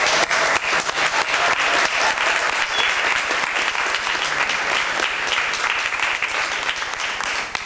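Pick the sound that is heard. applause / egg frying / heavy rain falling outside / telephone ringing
applause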